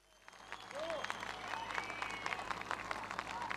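A crowd of young people cheers, whistles and applauds at a political rally in İzmir for the CHP leader, a dense, steady roar of clapping and shrill whistles that swells and continues throughout.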